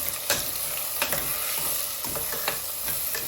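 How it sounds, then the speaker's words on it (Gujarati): Zucchini and spices stirred and mixed in a hot pan, a steady frying sizzle with a few sharp scrapes and clicks of the spoon against the pan, close and continuous with no talking. "સરખી રીતે મિક્સ કરી."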